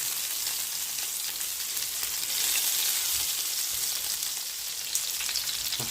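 Meatballs browning in a pan after being turned with tongs sizzle in a dense, even hiss that holds steady at close range for the whole stretch, with faint crackles and no talking.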